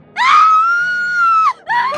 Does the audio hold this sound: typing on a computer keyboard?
no